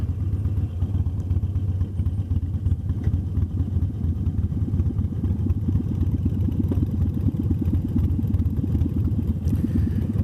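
A bobber motorcycle engine idles close by with a steady low, lumpy throb and faint mechanical clatter, continuous and loud for the whole stretch with no talk.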